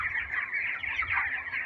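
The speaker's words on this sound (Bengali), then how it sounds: "আমার ফার্মে যে মুরগিগুলো আছে 1600 মুরগি আছে।" A flock of about 1,600 company-bred chickens on a poultry farm keeps up a dense, steady clucking chorus, close and continuous, with no voices over it.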